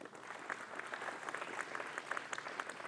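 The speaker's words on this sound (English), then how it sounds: "why don't you give yourselves a big round of applause for coming to this momentous occasion" A crowd at a ribbon cutting ceremony for a renovated campus building applauds steadily, many hands clapping in a dense, even patter that holds for the whole stretch, fairly distant and moderate in level.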